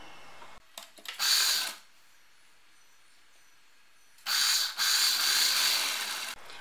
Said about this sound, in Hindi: अब हम इस साइड से इसको फोल्ड करते हुए इस साइड भी सिलाई लगा लेंगे